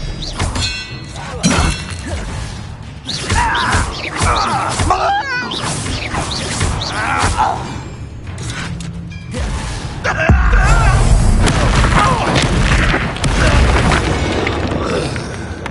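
An Expelliarmus disarming spell strikes during a wizard duel in Hogwarts Legacy, with loud booming blasts, crashes and shattering impacts layered over dense, continuous magical effects.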